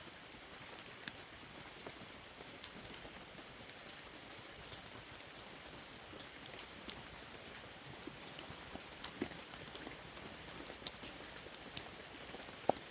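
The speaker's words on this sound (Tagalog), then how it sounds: "Sana humina na itong ulan tol." Steady rain falls throughout, a dense, even patter on surfaces with scattered louder drops, fairly quiet and continuous with no voices.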